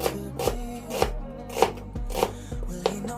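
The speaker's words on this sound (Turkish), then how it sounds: "Şimdi soğanlarımızı bu şekilde doğruyoruz arkadaşlar." A knife chops onions on a cutting board in a steady rhythm of crisp, close knocks, about two per second, with no talking.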